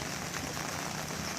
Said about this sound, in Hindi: आप देख सकते हो बारिश हो रही है